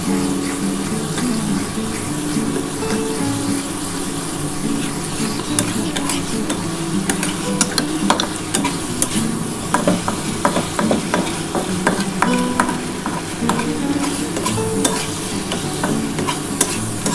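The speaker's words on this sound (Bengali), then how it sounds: "যতক্ষণ না এটা একটু শুকনো হচ্ছে ততক্ষণ কিন্তু এটা নেড়ে চেড়ে যেতে হবে" A spoon scrapes and stirs mashed banana-stem paste in a hot pan until it dries, with steady scraping strokes over a soft continuous sizzle, close and fairly loud.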